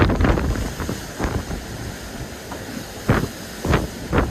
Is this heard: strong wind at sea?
yes